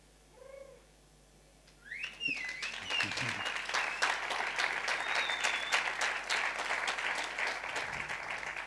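An audience at a business talk in Mar del Plata claps steadily after a short pause, the applause building and holding loud and even for several seconds.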